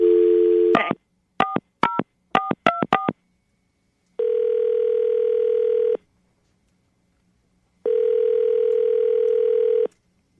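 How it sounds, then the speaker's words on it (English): A phone dial tone followed by a quick series of touch-tone beeps as a number is dialed, then two long ringback tones with silence between, clear and close. "we're going to call him right now."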